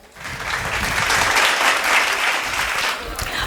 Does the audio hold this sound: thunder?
no